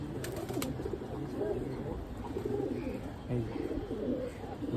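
Pigeons coo in low, rolling, overlapping calls, fairly close and continuous throughout, with a faint chirp or two at the start.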